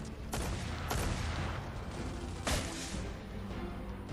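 Gunfire in Fortnite, a few loud broadband blasts around one second and two and a half seconds over continuous dense game noise and rumble, with no speech.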